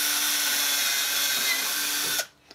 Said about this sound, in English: You just put some downward pressure as you're drilling through.